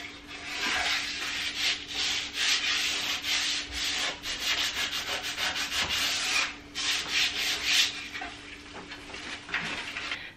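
Wood is sanded by hand before painting in a home renovation, with close, scratchy back-and-forth strokes that come in uneven bursts over about ten seconds and briefly pause now and then.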